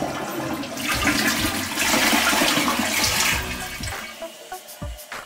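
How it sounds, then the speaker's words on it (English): Household toilet flushing with a strong, rushing swirl of water that holds steady for several seconds, then tapers off into trickling and gurgling as the tank refills. "Toilet flush."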